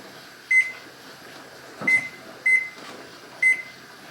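Short electronic beeps from a kitchen timer being set during pressure canning of green beans, four separate high tones spaced unevenly over a few seconds, with a faint clack between and a soft hum underneath.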